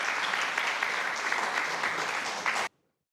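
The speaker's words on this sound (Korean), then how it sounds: "여러분 따뜻한 박수로 한번 맞아주시기" Warm applause from the audience at an independence activist award ceremony fills the room as a dense, steady clapping that cuts off abruptly into silence near the end.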